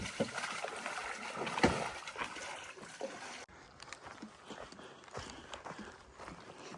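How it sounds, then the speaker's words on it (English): Canoe paddles dipping and pulling through water as people take a canoeing lesson on an Appalachian Trail lake, a series of soft splashes and knocks against the hull, faint and distant under outdoor ambience. "Some folks back there doing some canoeing."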